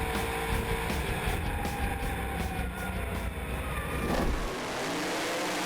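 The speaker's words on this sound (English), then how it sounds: "He's had 2 or 3 goes at the throttle trying to get that car launched." A drag racing car at Mildura's Sunset Strip during Speedweek revs its engine in repeated throttle bursts while trying to launch, a loud continuous roar with no voices over it.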